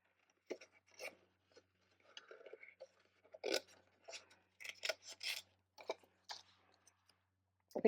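Scissors cutting out a small paper piece for a stamped craft project, leaving a white edge: sparse, quiet snips and crisp paper rustles in irregular bursts separated by silence, close up and without speech.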